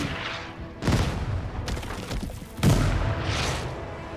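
Enemy mortar and artillery fire in the Total Tank Generals strategy game, a few heavy booming impacts with broadband crashes around one and a half seconds apart over a rumbling background.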